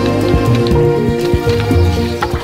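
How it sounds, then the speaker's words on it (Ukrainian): Rainwater falling and being collected outdoors as snow thaws, a steady loud patter of drops on a surface with scattered sharper splashes, close and continuous. "Забираємо дощову воду."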